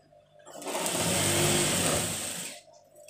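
A sewing machine stitches a salwar mohri in one continuous whirring run of about two seconds that rises, holds steady and stops, with no talk.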